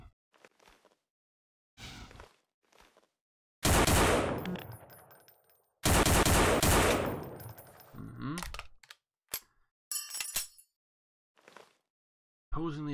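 A Winchester Super 3 shotgun firing in Garry's Mod, two loud close booming blasts with long decaying tails, separated by mechanical clicks and clacks of handling.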